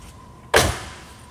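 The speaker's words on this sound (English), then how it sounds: "So anybody who walks out of the camper, forgets to shut the door, it will shut on its own." Camper door on a 2020 Venture RV Stratus SR281VBH ultra-lite travel trailer swinging shut on its own with a slingshot closer, one sharp nearby slam with a brief rattling tail, no talking.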